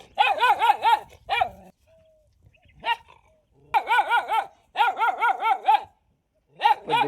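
A village dog on a farm barks in repeated bursts, several quick barks per burst with short pauses between, close and loud, with faint whimpers in the gaps.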